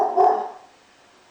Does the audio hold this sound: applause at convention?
no